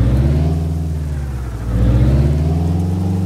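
A Peterbilt 351 truck engine idles in Euro Truck Simulator 2, heard from outside: a loud, deep, steady diesel rumble with a slight dip and swell in level, close and alone.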